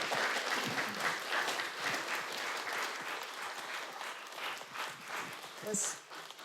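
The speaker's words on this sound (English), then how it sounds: "If you have a round of applause." Audience applause closing a panel discussion, a modest, fairly quiet patter of clapping from a small gathering, with some voices and movement mixed in.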